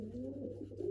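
Feral pigeons coo in a low, steady, throaty murmur that runs unbroken through the whole second, close and fairly quiet, with no talking.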